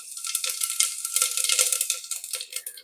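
Cumin seeds hit hot oil for khichdi and set off a steady, bright crackling sizzle with fine popping. It holds loud and close without a break and no one speaks.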